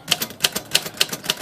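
Keys are struck on a Royal O manual typewriter whose sticky keys keep jamming, producing sharp, close metallic clacks at a steady pace of roughly three per second, with softer taps in between.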